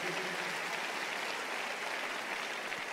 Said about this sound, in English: Let's keep clapping our hands and celebrate Jesus.